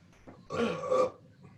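A single drawn-out, loud burp close up, rumbling for about half a second against quiet surroundings; likely a voice imitating it.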